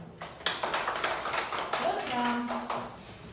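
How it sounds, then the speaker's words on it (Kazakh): Children in a classroom clap their hands together in a quick burst of sharp, uneven claps, with talking over the top. "Бәріміз бір-бірімізге қолды шапалақтап қояйық"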